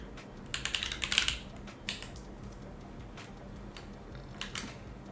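Light keystrokes of code being typed on a computer keyboard, soft irregular clicks in a few brief clusters over a quiet room background.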